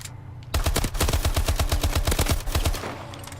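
Fully automatic fire from the SAC-3 submachine gun in Call of Duty: Advanced Warfare, a rapid, loud, unbroken stream of about twenty shots lasting roughly two seconds, with a fading tail and no voices.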